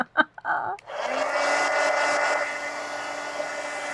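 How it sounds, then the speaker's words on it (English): A twenty-year-old heat gun blows steadily over acrylic paint, a continuous airy roar after a couple of brief handling knocks at the start, close and loud without any talk. "your new heat gun will look like this, even though this one's 20 years old."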